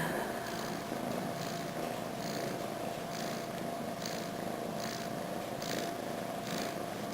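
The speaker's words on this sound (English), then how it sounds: "Will he purr himself to sleep?" An F2B Savannah kitten purrs close up, a steady rhythmic rumble with regular pulsing breaths, and nobody speaks.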